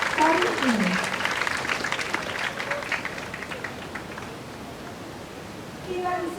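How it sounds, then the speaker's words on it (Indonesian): A crowd of teachers gives a welcome round of applause to a guest psychologist at a school event in Pangkal Pinang, steady clapping fading slowly as a voice speaks over it. "kita kasih aplaus untuk Ibu narasumber kita hari ini"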